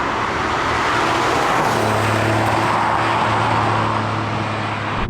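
A Porsche 964 RS on the road, its loud engine roaring steadily from inside the car while driving, with a deep drone and rushing wind and road noise.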